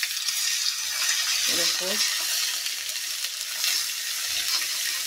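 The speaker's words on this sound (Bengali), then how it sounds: "এখন আমি এক এক করে দিয়ে দিচ্ছি মশলা।" A ground paste of tomato, green chilli, ginger and garlic frying in a pan, giving a loud, steady hiss that runs throughout, with a brief spoken word partway through.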